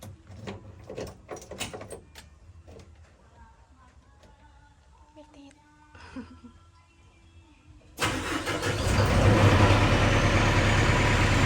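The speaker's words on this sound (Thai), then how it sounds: "สตาร์ทกับ เครื่องไม่สะดุดเลยสตาร์ทปั๊บติดเลย" A diesel excavator, just fitted with a new fuel filter, cranks and catches instantly after some clanks and knocks, then settles into a loud, steady rumbling idle close by.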